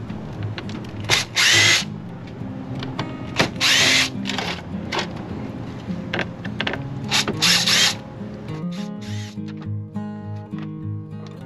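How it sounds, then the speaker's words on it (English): Power drill driving screws to refasten a panel on a Ram Promaster van: several loud short whirring bursts with pauses between, close up, ending in a ratcheting click, no talking. "So now I'm gonna screw this panel back in."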